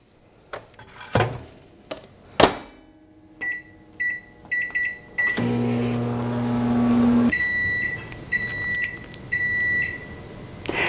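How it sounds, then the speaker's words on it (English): Several sharp clunks and thumps, then a microwave hums steadily for a couple of seconds before stopping, followed by a series of high electronic beeps. "the final timer just went off on the microwave"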